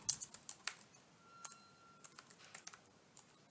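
Soft, quick clicks of a computer keyboard typing a heading into an Excel spreadsheet, irregular taps spread across a few seconds, faint and close with no talking.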